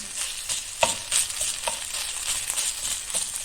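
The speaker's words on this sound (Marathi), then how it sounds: "ती आलं लसूणची पेस्ट ह्याच्यामध्ये घालून मिक्स करूया" Ginger garlic paste stirred into onions frying in a pan: a soft, steady sizzle broken by a few distinct scraping stirs of a spoon, fairly quiet and close.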